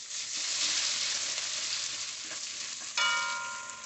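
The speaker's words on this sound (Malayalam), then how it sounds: "ഈ എണ്ണയിൽ തന്നെ നമുക്ക് സവാളയൊക്കെ വഴറ്റിയെടുക്കാം. ആദ്യം നമുക്ക് വെളുത്തുള്ളി ചേർക്കാം." Garlic sautéing in hot oil left from frying chicken for a chicken roast, a strong close hiss of sizzling that swells and settles, with a brief clink near the end.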